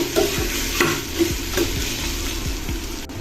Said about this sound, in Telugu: ఇలా పసుపు వేసుకున్న తర్వాత దీన్ని ఇంకోసారి కలుపుకోవాలి.